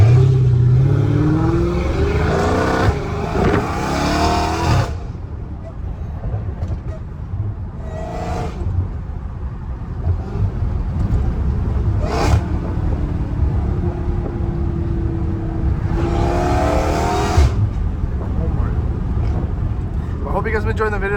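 A Dodge Hellcat Redeye revving and driving on a canyon road, its deep engine rumble rising and falling with bursts of acceleration and supercharger whine, while people talk over much of it.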